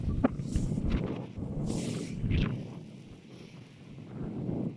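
Outdoors, wind buffets a microphone in soft, low, uneven rumbling gusts, faint overall and heard with no talk.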